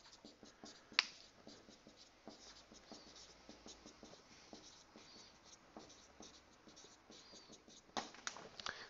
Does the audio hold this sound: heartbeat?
no